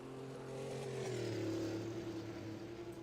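Engine note of a 1958 Formula 1 race car in a racing video game at the Belgian Grand Prix circuit, a steady droning hum that holds near and fairly loud, pitch sliding slightly down then levelling, with no talk.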